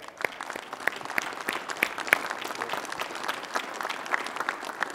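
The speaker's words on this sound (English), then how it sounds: "Let's give our panelists a round of applause." An audience claps for a panel discussion at a roundtable event, steady applause of many hands at moderate distance, continuing through the whole stretch without voices.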